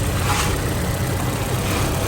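A Ford Fiesta engine idles steadily at close range, a constant low rumble with no talking.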